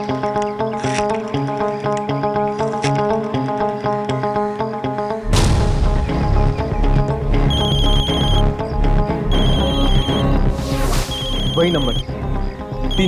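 A telephone rings in a tense domestic scene from a horror drama, its bright repeated tones cutting in over loud dramatic music, with a brief spoken exchange near the start.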